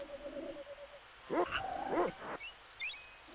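A dog in the video game Secret of Evermore gives a couple of short barks amid game music and effects, moderately loud with chimes following.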